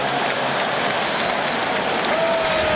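A loud, dense roar of cheering and clapping fills an NFL stadium during a Chargers at Patriots game in 2005, steady and continuous throughout.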